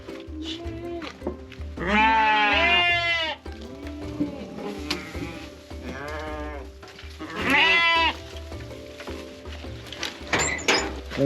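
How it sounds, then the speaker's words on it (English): Goats on a Berber family farm in the desert let out two long, loud, wavering bleats close by, with fainter animal calls and occasional talk between them. "Oh, they have cows and goats."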